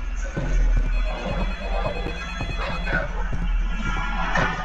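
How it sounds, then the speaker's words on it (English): A phone rings in the Roblox ghost-hunting game Specter, a repeating electronic ringtone running steadily over dense game noise and a busy background. "I'm not accepting any phone calls today."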